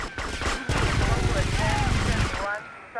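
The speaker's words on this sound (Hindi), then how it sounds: "बॉय गोलियां चलने वाली हैं।" Sustained machine gun fire in GTA Vice City during a five-star police chase, a dense rapid burst of shots that runs almost continuously for a few seconds with a loud, steady roar.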